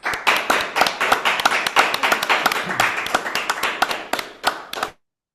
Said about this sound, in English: Can we have another round of applause for Andrew, please?